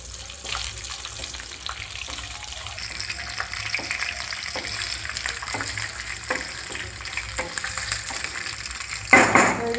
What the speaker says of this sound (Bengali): তারপর কাজু কিশমিশ দিয়ে দিব। নাড়াচাড়া করে নিচ্ছি।